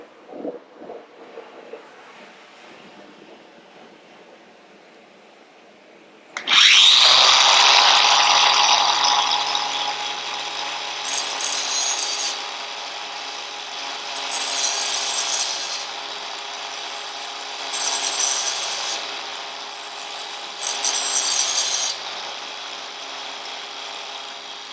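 A blunt twist drill bit ground against a spinning abrasive disc: a steady whirring motor with harsh, repeated grinding bursts as the bit is pressed on.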